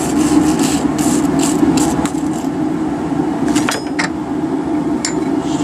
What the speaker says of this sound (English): Get our wire brush out.